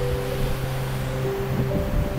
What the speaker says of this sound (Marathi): ही सुंदर अशी रिव्हर बेलगामची ग्लेशियर पॉईंटहून हाच तो पुढचा ग्लेशियर पॉईंट आणि तिथूनच ही जी नदी वाहते